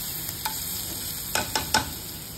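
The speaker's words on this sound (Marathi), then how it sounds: "कढईत तेल टाकलं होतं. मग त्यात मिरची आणि लसूण जिरेचं फोडणी दिली." Chilli, garlic and cumin tempering sizzles in hot oil in a wok, a steady quiet frying hiss broken by several sharp scraping stirs near the end.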